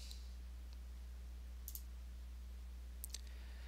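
A computer mouse clicks on a Publish button, giving a couple of small, sharp ticks over a steady low electrical hum, close and without talk.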